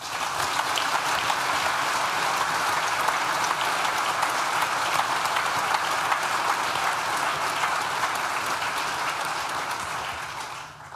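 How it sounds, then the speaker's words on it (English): A large audience claps steadily at a university graduation ceremony, a dense, even roar of many hands in a big hall that holds for about ten seconds before slowly tapering off. "Please join me in thanking them with a well-deserved round of applause."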